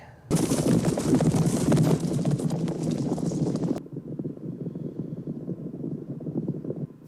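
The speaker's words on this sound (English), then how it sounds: "Galloping horses." Many horses gallop in a thundering rush of hoofbeats, loud and continuous, easing to a softer rumble of hooves after a few seconds.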